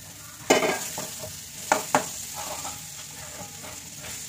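Potatoes and green chillies stir-fried in spiced oil for dhaniya alur dom, a steady close sizzle broken by a few sharp scraping stirs, with no talking.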